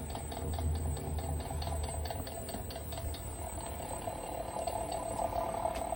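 A pump runs steadily close by, with a fast, regular ticking mechanical rhythm over a constant hum and no one talking.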